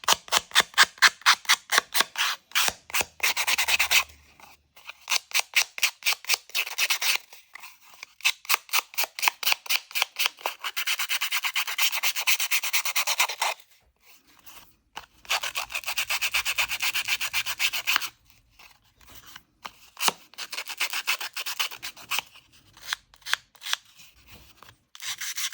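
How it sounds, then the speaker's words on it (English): Rapid back-and-forth scratchy rubbing of sandpaper, in quick bursts and longer continuous strokes with short pauses between, close and dry. "Sanding tool."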